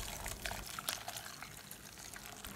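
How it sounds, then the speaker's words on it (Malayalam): Blended bush orange (Chinese orange) and spicy mint juice is poured through a strainer, giving a soft, steady trickle and splash of liquid with small irregular drips, close by and without speech. "ഇനി നമുക്ക് ഇതൊന്ന് അരിച്ചെടുക്കാം."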